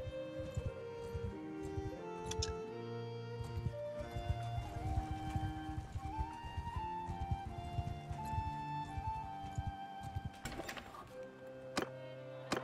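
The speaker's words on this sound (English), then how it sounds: "Oh, new horse." Horse hooves clip-clopping in the medieval combat game Mount & Blade II: Bannerlord, a steady rhythmic trot with occasional thunks, fairly quiet and without speech.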